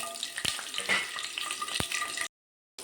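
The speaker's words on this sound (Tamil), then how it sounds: "கடுகு பொரிஞ்சிச்சு நண்பர்களே பூண்டு போட்டுக்கலாம்" Steady sizzling of garlic and mustard seeds frying in hot oil, with a few sharp clicks and pops, then a sudden cut to near silence before a brief return.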